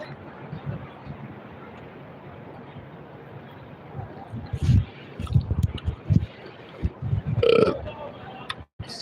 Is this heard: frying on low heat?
no